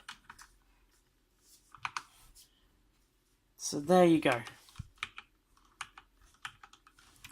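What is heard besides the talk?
typing on Corsair K65 keyboard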